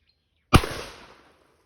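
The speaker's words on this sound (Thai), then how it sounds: "ต่อไป เราลองมายิงกันดู นัดแรก" A single sharp blast from a Remington 870 pump-action shotgun, close and loud, cracking out of silence and decaying quickly with a short rumbling tail.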